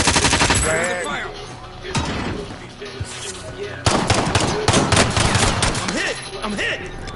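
Gunfire in Call of Duty Cold War, with bursts of automatic fire and single shots crackling loudly in close succession while voices talk in the mix.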